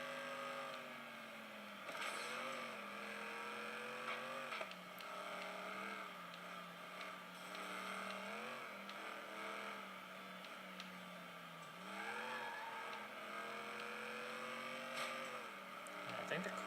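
Race cars in the driving game Flatout 2 drone through a race, engine tones rising and falling in pitch with shifts and acceleration, steady and moderately loud.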